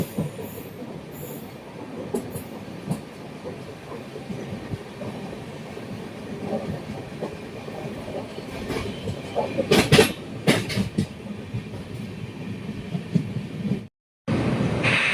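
The Ernakulam-Velankanni Express runs at speed in second class, giving a continuous rumbling rattle with rhythmic wheel clatter and occasional louder knocks, briefly cut off near the end before resuming.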